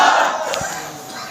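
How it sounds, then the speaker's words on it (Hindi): A crowd of audience members cheers and claps loudly for a speaker, a brief burst of noise that fades slightly toward the end. "जोरदार तालियां होनी चाहिए"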